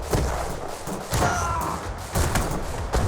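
Cannon fire traded between warships in Airships: Conquer The Skies, a series of dull thudding booms spaced roughly a second apart over a continuous rumbling battle bed.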